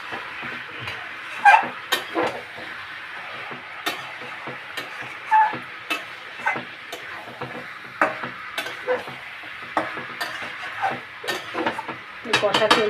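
Chicken meat being stir-fried in a pot, with a soft sizzle and intermittent scraping and clinking of a spoon against the pot at an irregular rhythm, fairly quiet.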